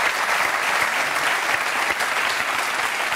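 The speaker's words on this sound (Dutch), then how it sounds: "geef hem een hartelijk applaus" Warm studio audience applause greeting a guest on a Dutch football talk show, a thick, even wash of clapping throughout with no voices on top.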